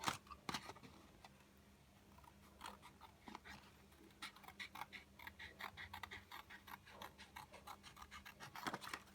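Scissors cut through a mini milk carton along its scoring line, giving close, faint scraping snips and crinkly rasps in an uneven series with short pauses between.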